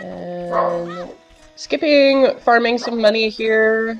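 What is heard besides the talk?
dog barking in the background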